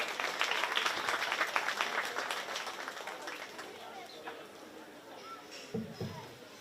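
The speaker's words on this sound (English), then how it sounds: "give them a nice round of applause" Applause from the audience at a county fair 4-H swine show, loudest at the start and then thinning into scattered clapping, with crowd murmur and some voices.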